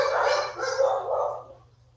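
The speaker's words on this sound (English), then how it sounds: "Does your dog have a mute button?" A dog gives a few close, sharp barks in quick succession over about a second and a half, then they fade out.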